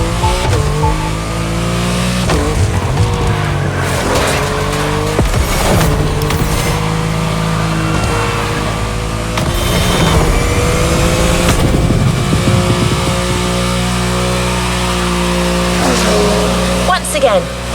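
Off-road-tuned Mustang GT in The Crew Motorfest, its engine revving and roaring continuously close up with shifting pitch and clattering impacts over rough ground, while a voice talks over it throughout.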